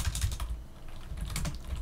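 Fingers type a Linux install command on a computer keyboard, a close, quick run of clicking keystrokes with no voice.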